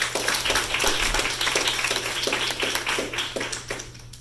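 An audience applauds a lecturer, Dr. Terry Simpson, at a lecture, with a steady run of many hands clapping in rhythmic bursts for about four seconds before the applause fades out.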